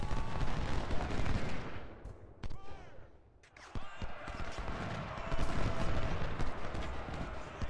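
Artillery battery firing in a Civil War battle strategy game, with heavy booming gunfire rolling over dense battle noise, a brief lull midway, then sustained volleys resuming loud and continuous.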